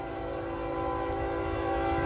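Freight train I-141 on the old B&O Dayton District in North Baltimore, Ohio, a loud steady rumble with a sustained horn-like tonal drone, close and continuous, no talk.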